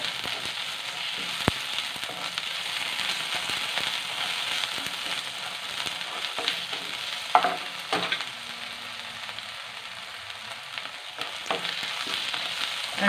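Ginger garlic paste fries in a pan for homemade noodles, giving a continuous soft sizzle with occasional stirring scrapes and light crackles, fairly quiet and steady throughout, with no voices.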